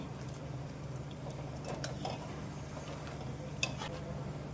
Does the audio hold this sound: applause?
no